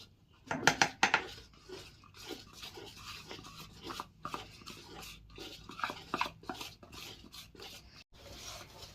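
Cake batter gets mixed in a bowl at home, with repeated clinking and scraping of a utensil against the bowl in an irregular rhythm, fairly faint and without talk.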